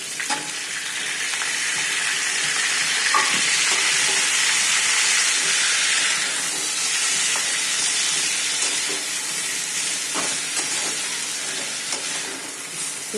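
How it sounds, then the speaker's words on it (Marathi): Fenugreek leaves fry in a hot pan over tempered mustard and cumin seeds with a loud, continuous sizzling hiss that swells and eases slightly, with no talking. "याच्यामध्येच आपण मेथीची भाजी घालणार आहोत"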